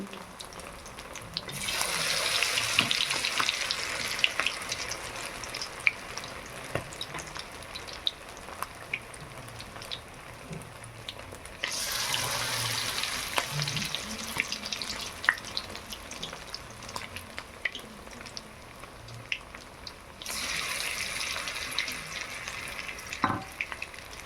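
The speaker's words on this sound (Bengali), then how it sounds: "মাঝারি আঁচে ভাজবো, বেশি আঁচ দেব না" Chicken lollipops fry in dark, reused oil over medium heat, giving a steady close crackling sizzle with bursts of stronger bubbling that swell and ease off in waves, without speech.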